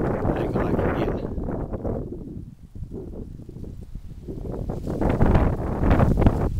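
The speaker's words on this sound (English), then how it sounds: "The wind always goes to blowing" Strong gusty wind roars through Alabama woods and buffets the microphone, easing briefly midway before surging loud again.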